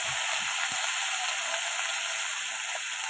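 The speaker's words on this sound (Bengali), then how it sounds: "আগে এটাকে একটু ভাজা ভাজা করে নিই" Kohlrabi fries in a pan with a steady, bright sizzle that hisses without pause, close and fairly loud, with a few faint clinks beneath it.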